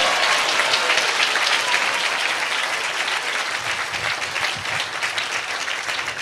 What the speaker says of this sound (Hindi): ताली बजा के प्रभु का धन्यवाद है।